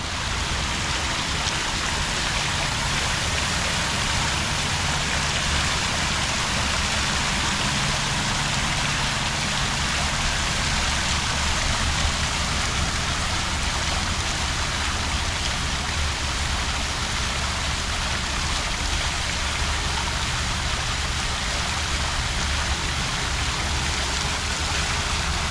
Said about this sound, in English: We'll get the water sound now.